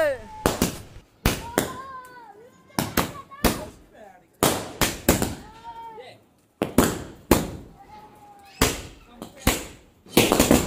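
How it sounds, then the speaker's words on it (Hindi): Sky shot fireworks at a Diwali or birthday celebration burst in rapid sharp bangs, loud and nearby, with whistling rising streaks between the pops and people chattering and calling out over them. "अब देखना भाई आसमान में स्काई शॉट फूटेंगे"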